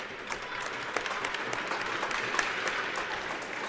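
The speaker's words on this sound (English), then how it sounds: "J.J. Hartman skating off to some applause from the fans" Fans at an ice hockey game between the Quad City Ice Eagles and Mason City Mohawks applaud steadily in an arena as a player skates off, a broad, moderate wash of clapping that holds evenly throughout.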